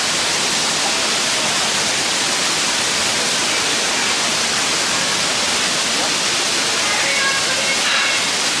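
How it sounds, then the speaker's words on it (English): A waterfall at the end of a hiking trail roars loudly and steadily up close, a dense rushing wash that fills the whole scene. "I made it to the waterfall"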